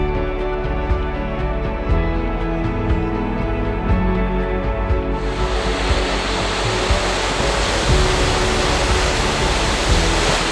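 Thunder Creek Falls in New Zealand pours in a loud, continuous roar heard up close beside a highway, a dense unbroken wash of falling water that swells fuller and brighter halfway through.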